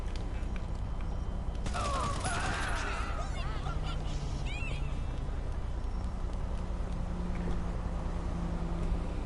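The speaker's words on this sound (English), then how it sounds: "I literally shot a person in sight of the cops" Gunfire in GTA Online, a rapid fusillade of shots crackling at moderate distance over a steady background hum, with scattered other game sounds and brief voices.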